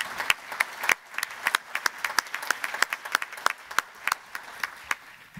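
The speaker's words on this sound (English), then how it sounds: "So let's give them all another big round of applause." Applause at a conservation forum meeting, with a modest number of people clapping in loose, irregular sharp claps, some hands standing out close by while the rest fade quieter behind.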